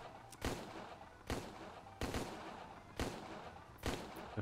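Gunfire in the video game Empire of Sin: five sharp, evenly spaced shots about a second apart, each with a short decaying tail over a low background rumble.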